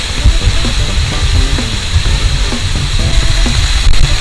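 Rushing water at Mahogany Falls fills the scene with a steady, dense hiss and roar, loud and continuous throughout.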